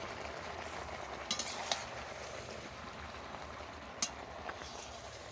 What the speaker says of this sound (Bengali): ভেজে রাখা সব সবজিগুলো দিয়ে দিয়েছি। এবার একটু নাড়বো।